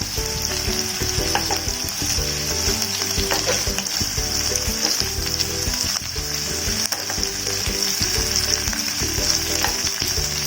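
Prawns frying in a pan give a constant close crackling sizzle, with intermittent scraping and stirring clicks over the steady hiss.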